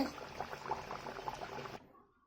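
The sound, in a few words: palm-flavoured luchi frying in oil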